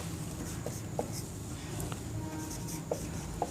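Chalk or marker strokes on a classroom board, a steady faint scratching with a few small taps, alone with no talk.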